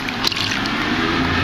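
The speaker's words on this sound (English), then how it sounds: "When you press the blue button, you'll see the water come out." Water spurting into a Thetford 550E RV toilet bowl, a steady close hiss and splash with a small sputter near the start.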